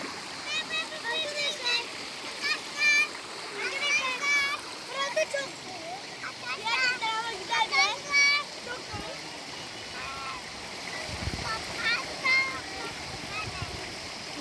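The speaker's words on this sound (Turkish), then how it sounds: "Şu arkadan da su akıyor." Water runs steadily along a stream beside a picnic and barbecue area, with splashing and a continuous rushing wash under frequent children's and adults' talk.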